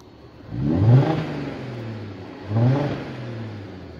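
Porsche Cayenne 3.2-litre V6 fitted with exhaust bypass pipes, revved twice from idle, each rise a deep swelling blip that settles back to a steady close idle.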